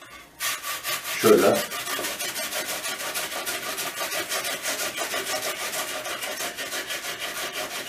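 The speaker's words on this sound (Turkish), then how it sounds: "bir büyükçe boy soğanı rendeleyeceğiz. Mümkünse rendenin ince dişinden" A large onion is rubbed over the fine teeth of a hand grater in quick, even rasping strokes that repeat steadily and close by, with one brief word spoken near the start.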